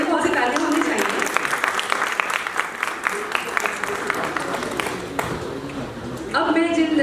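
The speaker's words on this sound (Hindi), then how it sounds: "नाहिद के लिए बहुत सी तालियां होनी चाहिए" Audience applause at an awards event in New Jersey where journalists receive citations, warm steady clapping from a seated crowd that runs for several seconds, with a voice breaking in near the end.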